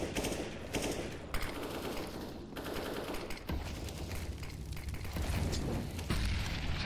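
Rapid automatic gunfire bursts in a CS:GO match on the Cobblestone map, sprayed through smoke, crackling in quick repeated volleys with distant booms mixed in, fairly faint against the game's background.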